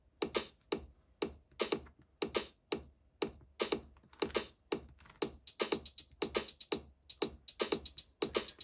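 A simple drum pattern programmed on a Teenage Engineering OP-Z synthesizer, with steady, evenly spaced crisp hits repeating in a quick loop, fairly quiet and with no voices.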